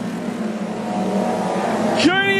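Street stock race cars roaring around the Carina Speedway dirt oval during a final, a steady engine drone with one car rising in pitch as it revs past near the end, under crowd and track ambience.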